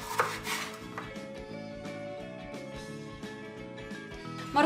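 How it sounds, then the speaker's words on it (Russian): Rapid, regular knife chops cutting carrots into thin strips on a cutting board, a brisk rhythmic tapping close up, with a louder clatter at the start and end. "морковь я нарезаю соломкой"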